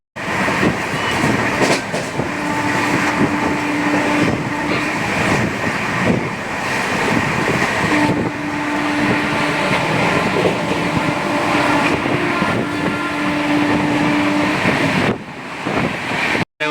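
A train at Kanthi station rumbles steadily close by, with wheels clattering over the rails and a few sustained tones, loud and unbroken until it cuts off near the end.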